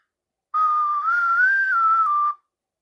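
A single thin, reedy tone from a cheap toy plastic pipe chanter holds one slightly wavering high note for about two seconds, with no one speaking.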